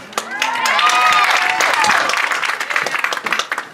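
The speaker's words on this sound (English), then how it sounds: "Give them a huge round of applause." A crowd at a parade of bands applauds the 2015 band seniors, loud dense clapping with some cheering and a few shouted voices mixed in.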